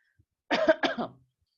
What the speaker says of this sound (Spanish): Aguárdame un momento porque me agarró un ataque de tos.